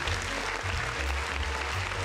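Applause sounds under a low steady hum or background music, a dense even clapping texture held at moderate level for the whole stretch.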